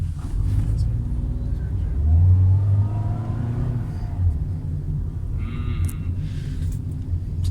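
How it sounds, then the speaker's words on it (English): A car engine revs at full throttle from inside the cabin, a low swelling rumble that rises and eases over several seconds, with brief talk over it. "I hear the sound only, the car doesn't go fast."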